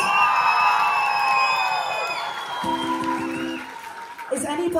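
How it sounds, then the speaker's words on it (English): A comedy club audience at The Globe in Cardiff cheers, whoops and applauds in a loud, dense wash, with shouts rising above it and a voice breaking in near the end. "Give them a round of applause!"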